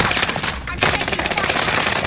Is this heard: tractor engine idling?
no